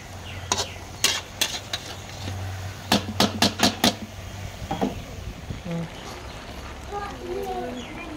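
Vegetables stir-fried in a pan with oil, ginger, garlic and onion, giving a low steady sizzle under sharp spoon scrapes and taps, including a quick run of clacks, while a voice speaks at times.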